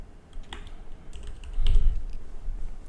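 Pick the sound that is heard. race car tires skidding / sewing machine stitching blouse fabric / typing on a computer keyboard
typing on a computer keyboard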